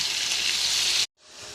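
Powdered spices hit hot oil in a pan for khichuri, a loud close sizzle that cuts out abruptly for an instant, then returns a little softer and keeps hissing.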